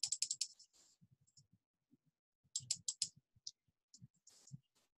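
A computer mouse clicking in quick clusters of light, close taps, with a short gap between bursts and a few scattered single clicks, faint and without speech.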